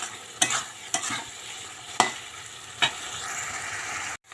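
Spice masala for a fish curry frying in a pan, a continuous sizzle broken by four sharp scraping stirs of a spatula, with no talking, ending abruptly.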